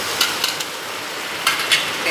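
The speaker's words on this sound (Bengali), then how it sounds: "মশলাটা ভাজা হয়ে গেছে। এবার সামান্য একটু জল দেব," A little water hits fried spice paste in a pan for rohu fish do pyaza, producing a loud, even hissing sizzle throughout with a few brighter crackling bursts.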